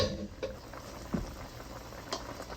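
A pot of stock for ogbono soup bubbles on the heat, a steady soft boil with occasional louder pops and splashes, fairly quiet and close, with no talking.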